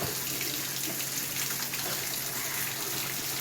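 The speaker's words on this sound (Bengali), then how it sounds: "দেখুন এই কল দুটো দেখুন চলতেই রয়েছে।" Water pours steadily from two open taps left running and wasting, a continuous broadband splashing rush that stays loud and even throughout with no voices.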